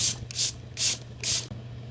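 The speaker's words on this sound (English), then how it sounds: "I'm gonna give the face one spritz of the setting spray to really get it to stay in place" Tirtir Makeup Fixer setting spray misted onto a face in four quick, close, hissing spritzes at a steady rhythm, each a short airy burst, with no talking.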